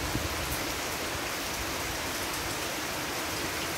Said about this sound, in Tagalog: Yung patuloy pa rin yung ulan.